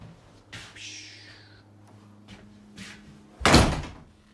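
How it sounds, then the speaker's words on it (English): Cabin door creaks and shuts in a series of soft knocks and clicks, ending with a loud, close slam. "This door goes straight to the outside."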